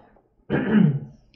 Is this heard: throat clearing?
yes